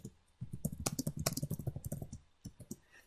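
Close computer keyboard typing with rapid irregular key clicks in a steady burst, a short pause, then a few more keystrokes, while a message is entered into catalog contact information.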